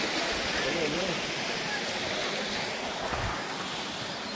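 A river stream rushes steadily where people wash clothes, a continuous broad watery wash heard close by, with voices faintly present beneath it.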